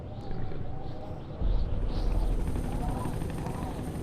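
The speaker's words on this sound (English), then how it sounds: "Hello, Chopper." A helicopter in the video game Fahrenheit (Indigo Prophecy), its steady rotor drone and low rumble holding for several seconds and swelling louder midway, with voices talking over it.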